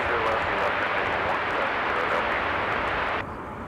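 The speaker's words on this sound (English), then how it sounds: "It's our Antonov that just departed." A huge Antonov An-124 cargo jet roars on departure from Minneapolis–Saint Paul, a dense, loud, broadband engine rumble that holds steady before dropping off abruptly near the end.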